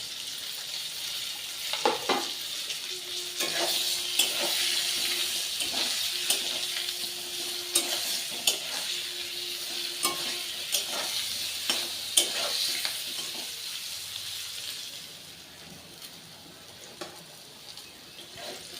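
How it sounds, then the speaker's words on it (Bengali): Eggplant slices frying in a pan with a steady crackling sizzle, repeated clinks and scrapes of a spatula, the sizzle easing off toward the end. "বেগুনগুলো ভাজা হয়ে গেছে এবার আমি তুলে নেব"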